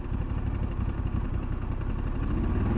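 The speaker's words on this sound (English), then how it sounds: "So I'm going to twist it, and I want you guys to listen to the revs." A 2023 Ducati Desert X motorcycle engine runs close by with a deep, throbbing low rumble that swells slightly as the throttle is twisted, steady and unaccompanied by voices.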